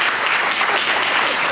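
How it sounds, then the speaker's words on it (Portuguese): Festival audience applause for arriving writers, including Luís Fernando Veríssimo, at LER 2019: a dense, even wash of many hands clapping at once, loud and sustained with no voices over it. "Vamos aplaudir"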